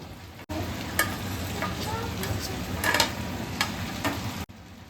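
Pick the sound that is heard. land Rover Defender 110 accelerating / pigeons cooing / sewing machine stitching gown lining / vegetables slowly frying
vegetables slowly frying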